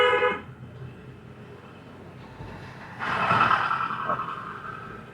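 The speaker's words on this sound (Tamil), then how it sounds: "ஹாரன்." Car horn honking during a driving lesson, heard from inside the car as a short tone at the start and a louder, longer blast later over engine and road noise.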